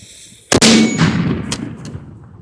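A bowling ball mortar fires on a 3.5-ounce powder charge: one sharp, loud blast followed by a rolling echo that slowly fades, with a couple of faint later clicks.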